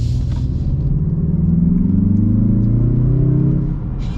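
A 2025 Mazda 3 Turbo sedan engine accelerating, a steady low mid-pitched drone with rising tones as the revs climb, heard close from inside the car and fading slightly at the end.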